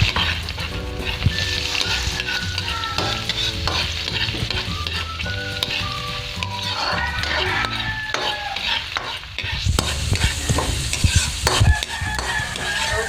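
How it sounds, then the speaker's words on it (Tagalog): Onion and garlic sautéing in a pan, a loud close crackling sizzle with frequent scraping and stirring, a faint rooster crowing in the background. "Onion, then afterward garlic. Okay. Let's just saute this."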